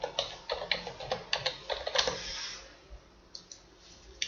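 Password being typed on a computer keyboard, a quick run of light key clicks in an uneven rhythm that thins out to a few scattered taps, close and quiet with no talk.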